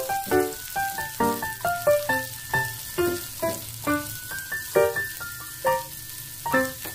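Chili and onion stir-fried in a pan for a crispy sweet-and-sour tofu dish: soft sizzling beneath a steady series of clinking spatula strokes against the pan, close and fairly quiet, with no talking.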